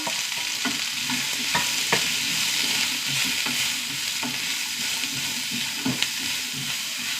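Chopped onions and curry leaves fry in a pan with a soft, continuous sizzle, punctuated by intermittent clicks and scrapes of stirring.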